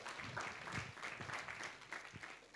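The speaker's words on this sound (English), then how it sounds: "Please give him a round of applause." A conference audience at a religious-freedom panel applauds, with a soft, steady spatter of clapping that sounds fairly distant and faint and runs unbroken through the short stretch.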